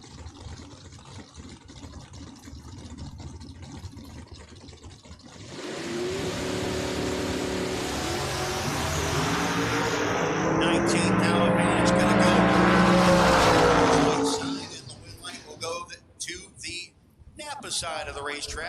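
A 1990 Camaro and a 1986 Ranger launch in a drag race, engines roaring loud and sustained for about ten seconds before fading, with an announcer talking over the run and around it.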